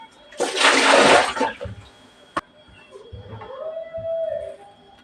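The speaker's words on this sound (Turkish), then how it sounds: "Bakın bu suyu dökeceğim şimdi." Salted soaking water is poured off eggplants, heard as a brief, fairly loud gush and splash that quickly fades into light dripping and faint kitchen sounds.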